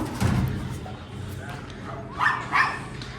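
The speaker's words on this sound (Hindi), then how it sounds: "जैसे देखो ये अब भाग के गई तो मैगी ने देखते ही भौंकना स्टार्ट कर दिया" A German Shepherd barks outdoors at a fleeing cow, a couple of sharp barks late in the moment after people talk over background noise.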